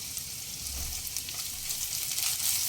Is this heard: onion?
yes